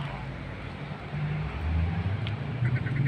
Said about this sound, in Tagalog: May mga ibon dito.